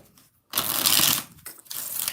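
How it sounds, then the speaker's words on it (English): Tarot cards being shuffled, a quiet start followed by a loud riffling burst of about a second, a brief pause, then a second ruffling pass, close by. "2 more shuffles for Jonathan."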